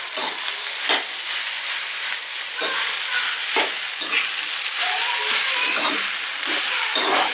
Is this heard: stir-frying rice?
yes